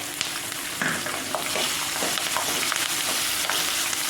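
Green chillies hit hot oil for sabudana khichdi, giving a steady close sizzle with a few stirring scrapes through the pan and no talking.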